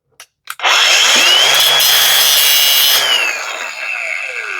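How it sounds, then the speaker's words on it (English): Power grinder biting into a pair of Knipex pliers, a couple of short taps then a loud harsh continuous metal grind lasting a few seconds before easing off as the wheel spins down. "So we're able to grind on it."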